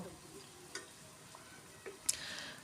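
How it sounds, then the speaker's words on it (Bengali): Ginger and garlic fry quietly in a pan as salt is added, with soft sizzling broken by a few light scrapes and taps of the spoon while they are stirred. "লবণ দিয়ে আবারও কিছুক্ষণ লাড়াচাড়া করব"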